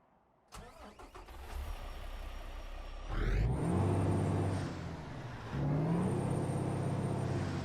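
Truck engine in American Truck Simulator cranking and catching, then settling into a deep, steady idle, with a second revving surge a few seconds later, loud and close with no talk.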